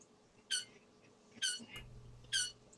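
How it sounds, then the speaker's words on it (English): A dog plays with a squeak toy, making three short, sharp squeaks about a second apart, faint against a quiet room with a low hum. "That is my dog with the Squeak toy."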